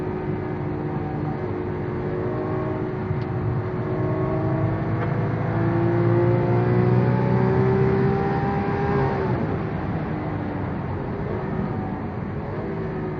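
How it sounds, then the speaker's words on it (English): A Lamborghini Aventador accelerates flat-out on the Vallelunga track, heard from inside as a loud, steady engine roar whose pitch climbs through the gears, swells briefly and then eases off near the end. "And this is how the Aventador accelerates."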